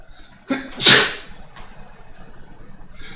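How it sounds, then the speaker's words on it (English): A single sharp sneeze close by, preceded by a short inhale, then quiet with a faint breath afterward. "oh, I'm about to sneeze."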